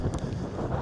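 Gusty wind on an overcast golf course buffets the microphone, a low, blustery rumble with a few brief rattles, continuous and close.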